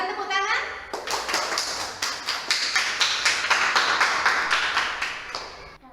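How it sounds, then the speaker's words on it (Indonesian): A school class claps after a group presentation, a quick burst of hand claps in an irregular but steady rhythm, close and fairly loud, with a voice briefly heard at the start. "Berikan tepuk tangan."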